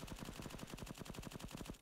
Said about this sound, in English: let's look at some gameplay of the G36C. I really like the sound that this gun makes.